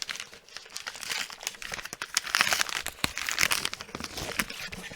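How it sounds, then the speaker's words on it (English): Padded mailing envelope being opened, with steady close crinkling and crumpling of plastic and paper, broken by sharp tearing snaps and growing louder over several seconds; no talk. "This is a padded envelope."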